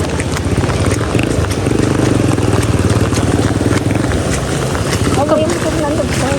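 A motorcycle engine drones through floodwater in Mindoro after heavy rain, a loud continuous pulsing hum mixed with wind buffeting the microphone, while people talk nearby.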